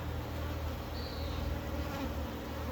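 Steady droning buzz of many honey bees at hives and nucleus colonies, continuous and close, with no voices over it.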